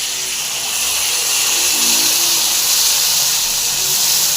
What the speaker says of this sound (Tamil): எண்ணெய் ஊற்றிருக்கோம் இந்த காய் லைட்டாக வதக்கலாம்